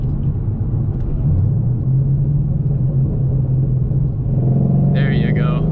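A 2014 Mustang GT fitted with a Boss 302 intake manifold drives along with a steady low engine drone and road rumble, the pitch rising slightly partway through, heard from inside the car.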